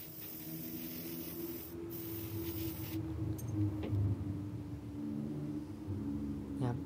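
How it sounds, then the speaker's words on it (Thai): An airbrush sprays paint onto small brake caliper parts, a steady close hiss of compressed air running throughout with faint knocks and clicks of handling. "ใช้แอร์บัดในการพ่นเลยครับ"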